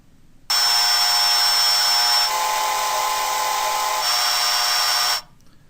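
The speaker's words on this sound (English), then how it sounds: "hear differences, in this case, between two different vacuum cleaners" Vacuum cleaner recording played back, starting abruptly with a loud, steady, high-pitched motor whine and airflow hiss that shifts slightly in tone midway and at about four seconds, then cuts off sharply.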